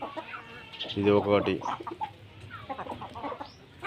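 Domestic chickens and roosters on a country-breed poultry farm, a burst of loud nearby clucking followed by scattered softer calls, with someone speaking briefly over them.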